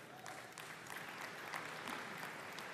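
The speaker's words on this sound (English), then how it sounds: "yeah, you can clap, it's awesome." An audience at a tech conference presentation on developer tools applauds, a steady dense wash of clapping that carries on evenly and sounds somewhat distant, with no speech over it.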